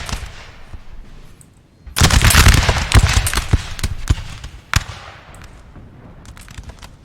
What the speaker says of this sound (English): Grenadiers, this is a big grenadier unit as well. 151 men in the unit, but they're opening fire now.